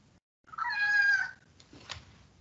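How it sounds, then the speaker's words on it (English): A pet cat gives one clear, drawn-out meow close to the microphone in a quiet room, followed by a couple of soft faint sounds. "I know it's hard being a kitty cat"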